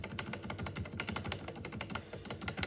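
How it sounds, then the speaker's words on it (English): Fast, dense typing on a white Ducky One 2 Mini keyboard fitted with silent red switches: a steady run of soft, muffled keystrokes with no pauses, close up and alone. "I want to do a sound test to show you guys what the Arch AMX Silent Red sound like"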